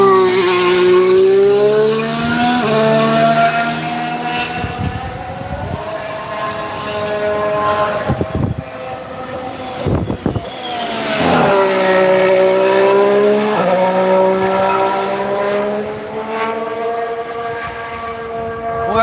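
A McLaren Formula 1 car at pre-season testing in Barcelona screams past with a loud, high-pitched engine howl that rises and falls as it goes by, and a second surge of engine noise follows.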